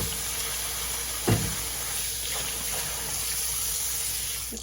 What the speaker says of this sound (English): I gotta put water in before it turns black color